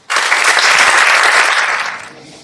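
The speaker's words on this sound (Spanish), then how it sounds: "Un fuerte aplauso para Susanne Selinger." An audience applauds a flamenco speaker at a public address, a broad wash of clapping that starts abruptly, holds steady and loud, then thins and fades toward the end.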